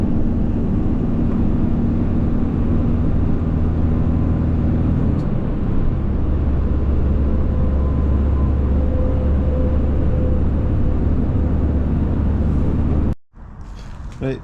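Steady engine and road drone inside a moving van heading to a trailer yard, a continuous low rumble with tyre noise that holds level before cutting out abruptly near the end.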